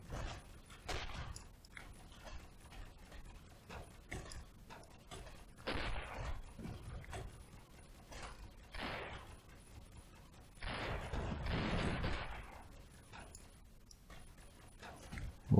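Spaceship weapons firing in the space game Avorion, scattered bursts of rapid shots in several clusters, some longer barrages, fairly quiet overall.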